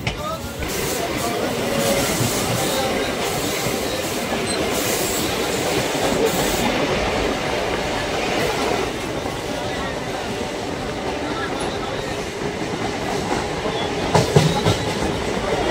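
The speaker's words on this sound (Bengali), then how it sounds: "কৃষ্ণনগর জংশন থেকে আমাদের ট্রেন ছেড়ে দিল।" A passenger MEMU train departing Krishnanagar Junction, heard from inside a coach, rumbles steadily with rhythmic wheel clatter and faint squeals, loud and continuous, with voices murmuring in the background.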